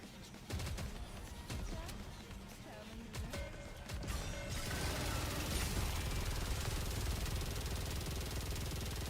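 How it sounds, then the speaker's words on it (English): Machine gun fire rattles from a video game, scattered bursts at first and then a dense continuous roar of gunfire underneath a faint voice. "Getting the MG sound in the background."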